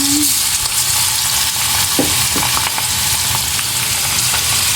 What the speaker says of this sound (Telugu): మనం ఇప్పుడు రొయ్యలు వేసేసుకుందాం.